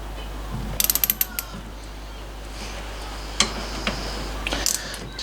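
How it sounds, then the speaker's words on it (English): A torque wrench ratchets in quick clicking bursts while tightening the wheel nuts on an MGB, with a few isolated clicks after, all close and clear over a steady low hum. "So I'll give these a pinch up now with the torque wrench."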